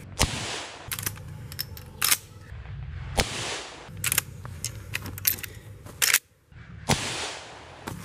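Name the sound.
rifle shots at tannerite target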